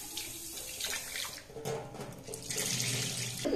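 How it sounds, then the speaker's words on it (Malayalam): Tap water running steadily into a sink as toor dal is rinsed in a home kitchen for Kerala sambar, a continuous close splashing and gurgling with no talk. "ആദ്യം തന്നെ ആ പരിപ്പ് അങ്ങോട്ട് കഴുകിയെടുക്കാം."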